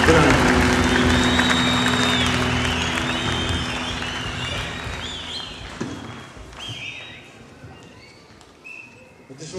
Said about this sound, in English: Take this time to give a hand clap to Senior Pastor David Crocker.